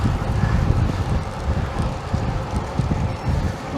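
Steady wind roars and buffets the microphone during a group road bike ride, a continuous low rumbling gust noise that fills the whole stretch, with no one speaking.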